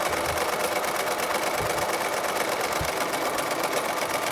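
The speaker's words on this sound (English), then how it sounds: "I'm going to sew around the whole top" A sewing machine runs a steady, continuous buzzing stitch around the top edge of a fabric face mask, fairly quiet and alone.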